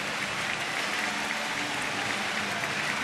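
A big baseball crowd on its feet at a San Diego at Washington game in July 2013, a steady, dense wash of cheering and clapping that fills the whole stretch without a break.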